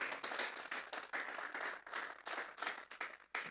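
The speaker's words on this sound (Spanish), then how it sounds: "Vamos a darle una ofrenda de palmas a Dios en esta hora." A church congregation at a Sunday service claps in praise, uneven bursts of applause rising and falling in quick pulses, moderately distant and fairly faint.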